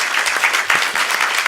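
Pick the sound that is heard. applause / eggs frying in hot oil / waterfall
applause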